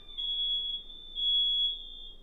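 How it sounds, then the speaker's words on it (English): Smoke detectors sound indoors, setting off a piercing, high electronic alarm tone that swells, dips briefly, then rises again, steady and close. "that little bit of fog for some reason always makes the smoke detectors go off."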